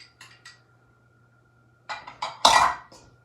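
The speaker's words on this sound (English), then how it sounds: "we're just going to continue stirring it as best we can with a spoon" A spoon clinks and scrapes in a bowl while an egg is worked into a sweet potato gnocchi mixture, a few light taps early, then a louder cluster of scraping knocks near the end.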